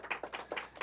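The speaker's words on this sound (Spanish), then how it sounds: "Un aplauso por eso, reconociendo a los maestros." A few claps ring out in a short, sparse burst, about four distinct hand claps spaced unevenly, as an audience applauds the teachers at a Torah lesson.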